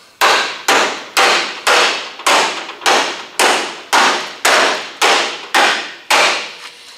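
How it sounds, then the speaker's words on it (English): Repeated heavy blows from a long reach hammer pounding a metal body panel of a 1965 Pontiac GTO back into place, about eleven sharp, loud strikes in a steady rhythm, each ringing briefly before the next. "take this long reach hammer here, and then we're going to start pounding that back into place"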